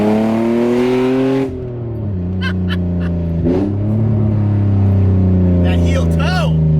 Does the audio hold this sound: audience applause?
no